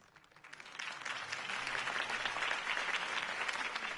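Crowd applause after a Harvey Dent campaign speech, a dense, steady wash of many hands clapping that swells in the first half-second and holds loud and even.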